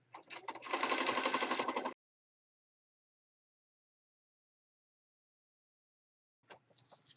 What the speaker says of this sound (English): I'll just raise my presser foot and flip my piece around and then start stitching down the other side